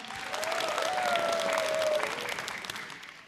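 Audience applause fills an open-studio concert stage at a Buddhist expo, steady dense clapping swelling and then tapering off over a few seconds, with a faint tonal line from the stage above it.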